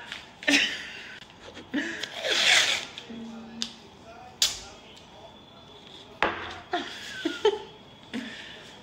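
Several quick ripping sounds of tape being pulled and torn off a roll, close, with pauses and small handling noises between them.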